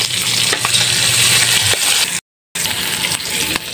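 Onions frying in a pan give a loud, close sizzle with stirring, broken by a short silent gap before it resumes.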